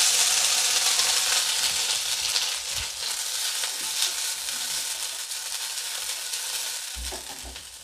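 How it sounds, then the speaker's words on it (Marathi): Curry leaves and crushed green chilli thecha fry in hot oil in a pan for Maharashtrian vada pav, a steady loud sizzle with bright crackle running without pause, and a few soft stir scrapes underneath. "कढीपत्ता सुद्धा असा परतून घ्यायचा।"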